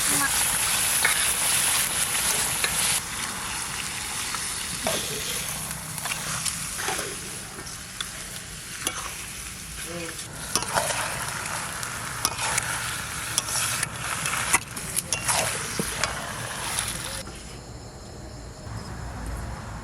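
Duck meat cooking in a pan on a winter night gives a continuous sizzle and frying hiss with scattered stirring clatter, close and moderately loud for the whole stretch, no speech over it.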